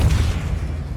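A Depulso force spell from the Hogwarts Legacy game lands as a brief, heavy booming thump, loud and low, fading slightly over about a second.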